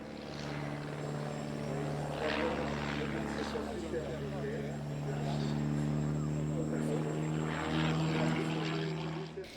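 Full-size aerobatic propeller airplane drones overhead at an airshow, its engine note rising and falling as it maneuvers, heard under continuous narration.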